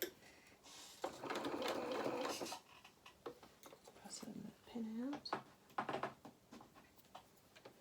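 A sewing machine stitches through faux fur on a hedgehog doll head in short bursts of whirring, stopping and starting as the fabric is adjusted, with a voice talking between runs.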